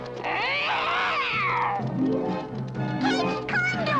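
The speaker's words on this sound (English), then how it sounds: "Naughty, naughty kitty. Leave the nice little Smurfs alone." A cartoon cat yowls and caterwauls in long wavering meows, loud and close, among the Smurfs, with music and voices underneath.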